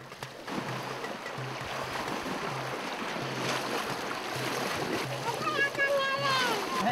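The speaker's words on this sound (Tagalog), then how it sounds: "bababa tayo ng bangka para itulak natin" A small boat pushed by hand through shallow river water sloshes and splashes steadily, with people talking over the water noise close by.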